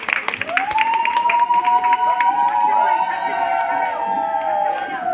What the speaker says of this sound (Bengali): আমার জোরে হাততালি এবং অনুধ্বনি দেবেন